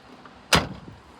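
Passenger door of a 2005 Ford Crown Victoria Police Interceptor shutting with a single loud, close thunk and short rattle, alone in a quiet setting.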